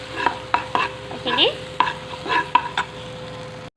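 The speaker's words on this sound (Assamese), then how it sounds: "এয়া মছলাৰ পেষ্টটো ইয়াত ঢালি অকণমান 1 মিনিটৰ কাৰণে অকণমান ভাজি ল'ম।" Spice paste fries in a pan with a soft sizzle as a utensil scrapes and stirs in short repeated strokes, close by. A voice speaks briefly.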